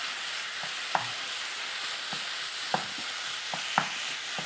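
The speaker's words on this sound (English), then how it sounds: "We're just going to try and brown this beef off." Ground beef browns with onions in a frying pan, a continuous close sizzle punctuated by occasional spatula scrapes and taps as the meat is moved around.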